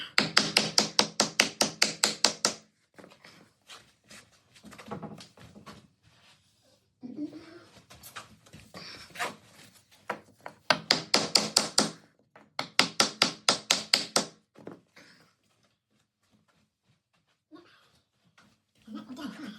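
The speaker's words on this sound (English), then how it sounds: "I just want to try and hammer that end back into there" Bursts of rapid hammer taps knocking a rough-cut piece of MDF into place while fitting skirting come in quick rhythmic runs, separated by pauses with quieter knocks and handling noises, up close and fairly loud.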